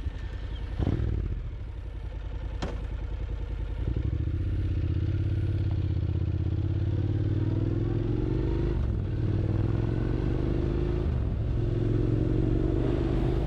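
Motorcycle ride heard from the rider's position: a steady low engine rumble with wind noise, a few sharp clatters early on and gear shifts as the engine note rises and settles.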